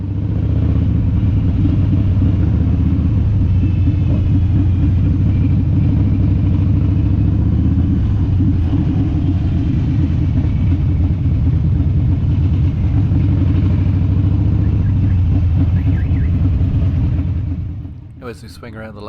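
A motorcycle rides along a New Zealand road between Waikato and Kawhia, its engine a loud, steady low rumble with rushing wind that holds for nearly the whole ride, then drops away in the final second.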